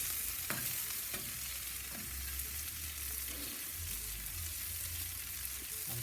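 Sliced onions for Philly sandwiches cook on a soapstone slab on a Big Joe kamado grill. They give a dense, even sizzle with scattered spatula scrapes and taps, close up and steady throughout.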